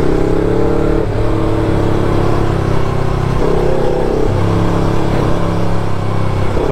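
A Yamaha R25 sports motorbike being ridden, its engine droning loud and close at a steady pitch that steps up and down with gear changes and throttle, alone without talk.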